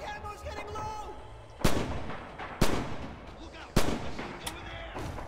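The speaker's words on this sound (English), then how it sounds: "We've got somebody sniping with an MP44 at the moment." Gunfire from an MP44 rifle in the Red Orchestra 2 game on the Winterwald map: three sharp, loud shots spaced about a second apart, each with a rolling echo tail, over constant battlefield background noise.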